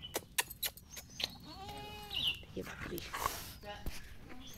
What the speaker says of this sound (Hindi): ये बकरियों के बच्चे